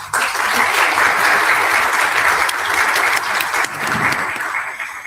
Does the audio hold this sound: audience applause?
yes